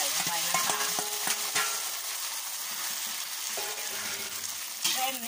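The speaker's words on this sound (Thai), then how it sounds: "ตอนนี้น้ำมันร้อนเต็มที่แล้วนะคะเราก็จะใส่ลงไปนะคะ" Loud, crackling sizzle of noodles frying crisp in very hot oil for Thai rad na, with occasional scraping clinks of a utensil against the pan.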